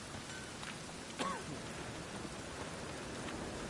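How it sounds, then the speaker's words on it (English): Steady rainfall in The Witcher 3 video game on PS5 hisses evenly throughout, faint and continuous, with a brief sharper sound near the start. "Rain again."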